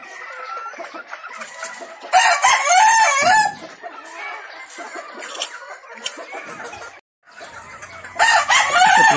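Chickens on a gamefarm cluck and squawk in a busy flock of hens, with several loud crow-like calls rising over the steady background clucking.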